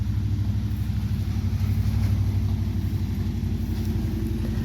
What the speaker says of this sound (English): It's my neighbor. Driving by over to his house.